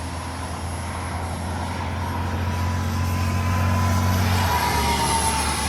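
A twin 40mm EDF radio-controlled F-22 Raptor jet flies at full speed, giving a loud, steady ducted-fan whine and rushing roar that swells as it passes, with no talk.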